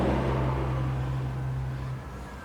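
A 1951 Ford F1 panel truck with a 406 small block making 500 hp runs with a steady, close engine rumble and hum that drops slightly near the end, with no voices.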